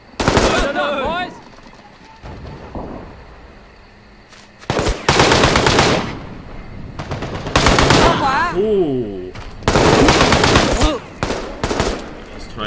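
Machine guns fire in a Vietnam War video game set at the Battle of Khe Sanh. Several loud, sustained bursts are separated by quieter stretches, with voices speaking between and over them.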